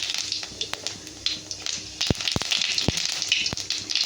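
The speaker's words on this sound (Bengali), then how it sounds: "ওটা জিরে ফোড়নে দিলাম" Cumin seeds crackle in hot oil for a chicken dish, a fine steady sizzle with scattered pops and a few sharp low knocks near the end.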